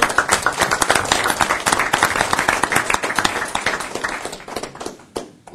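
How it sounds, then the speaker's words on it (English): Applause at a board of directors meeting: a room of people clapping briskly, individual claps distinct and close, tapering off over the last second. "Let's give a round of applause for all."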